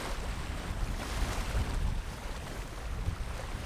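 Wind of about 15 knots buffets the microphone over choppy sea at a river-mouth bar, low rumbling gusts and wave wash rolling continuously and close, with no one speaking.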